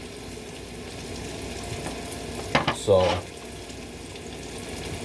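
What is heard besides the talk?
burrito filling frying in a pan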